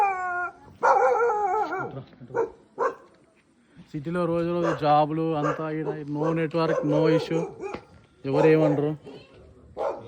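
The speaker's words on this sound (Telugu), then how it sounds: "ఈ సిటీలో కుక్కలు ఉన్నాయి జాగ్రత్త" Village dogs in a tribal area of Araku bark and howl in drawn-out, wavering cries, mixed in with nearby people talking over them.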